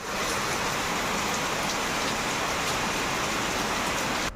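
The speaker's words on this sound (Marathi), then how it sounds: "पाऊस अजूनही चालू आहे." Steady, dense rain pours down without a break, a continuous close hiss of drops striking surfaces with no voices present.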